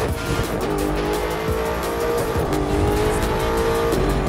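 A race car in The Crew 2 video game brakes hard with loud, sustained tire squeal over a rumbling engine, close up and dominant for the whole stretch, with no talk.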